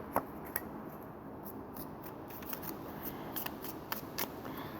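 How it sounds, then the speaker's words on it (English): Soft, rapid riffling and slapping of tarot cards being shuffled in several quick bursts, close by and quiet, with no talking. "So I'm going to start shuffling and pick the cards."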